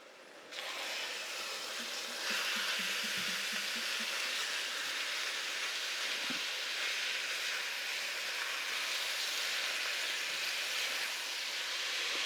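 Ground meat for lasagna frying in a pan, a steady, close, loud sizzle that continues unbroken throughout, with a few faint stirring knocks.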